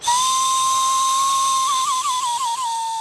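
Mongolian overtone throat singing produces a sustained, piercing whistle-like tone above a faint drone. The tone holds steady and then wavers in a quick rhythmic warble near the end, alone and fairly loud.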